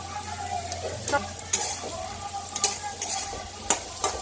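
Asafoetida sizzles in hot oil for a chickpea curry, a close, continuous crackling fry punctuated by repeated clinks and scrapes of a spoon stirring the pan.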